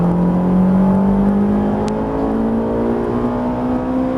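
A Ferrari 458 Italia accelerates at full throttle on the Haute Saintonge circuit, a loud sustained engine note climbing steadily in pitch with rich harmonics, heard close from inside the car.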